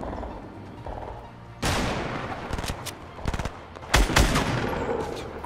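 Gunfire in Fortnite Battle Royale rings out in several sharp bursts and rapid volleys, loud and close, separated by brief quieter gaps.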